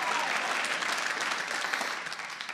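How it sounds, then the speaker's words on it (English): Comedy club audience clapping during a stand-up set, a dense burst of many hands applauding at once, loud at first and gradually thinning out toward the end. "Not every audience claps at that part."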